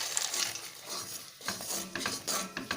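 A spoon stirs fried peanuts into sticky, cooked sugar syrup for homemade peanut khaja, making a run of close, scraping and clinking sounds against the pan in an uneven rhythm, with no voices.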